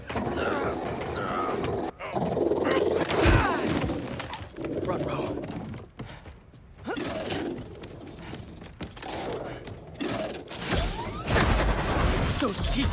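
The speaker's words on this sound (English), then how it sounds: "Nice doggy kitty robot." A robotic cat-like guard dog growls and roars in Marvel's Spider-Man 2, its mechanical, snarling bursts rising and falling through about thirteen seconds of loud, dense game action noise, with a sharp louder surge near the end.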